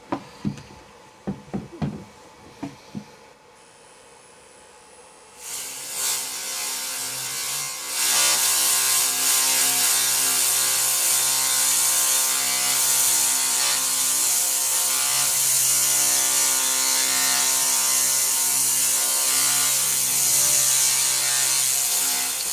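A handheld laser rust cleaning machine starts with a few sharp clicks, then runs as a loud, steady, bright hissing buzz with a mechanical tone while stripping rust from metal, continuous to the end.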